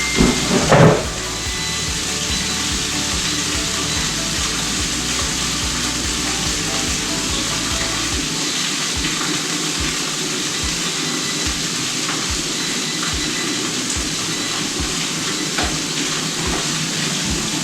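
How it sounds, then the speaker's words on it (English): Continuous crackling sizzle of chips frying in hot oil, close and steady, after a brief clatter at the start. "It's very noisy because it is sizzling away and the chips are almost done."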